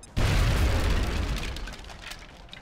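A grenade explodes in the video game XCOM: Enemy Within, one sudden loud boom followed by a rumbling decay that fades over about two seconds.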